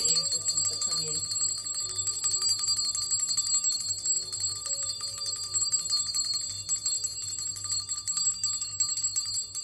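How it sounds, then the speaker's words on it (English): A single bright metal bell struck once, its clear ringing tone sustaining and slowly fading over several seconds in a quiet room, with no talking. "let's ring the bell and ask the ancestors to come in"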